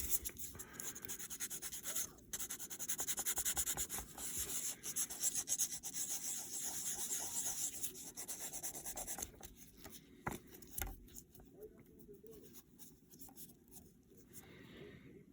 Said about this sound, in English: you're going to want to take a buffer to that.